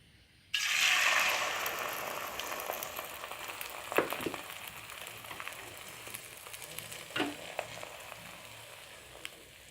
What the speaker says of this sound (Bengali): এবার ফেটানো ডিমটা আমি ঢেলে দেব।